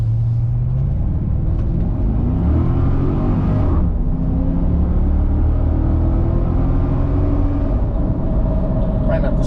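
A Pontiac GTO muscle car drives along with a loud, continuous engine rumble and low road roar, rising and falling slightly as it moves, with a voice talking over it.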